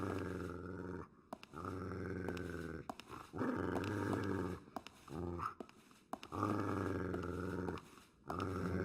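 A dog in the video game Fragile Dreams growls deep and close in long rumbling bursts, several sustained snarls separated by brief pauses, with no talking.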